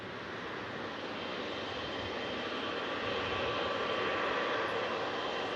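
A Boeing 777 airliner arriving from Dubai at Manchester Airport rumbles past as a broad, steady roar that swells slightly louder toward the end, heard from the runway viewing area with no talking.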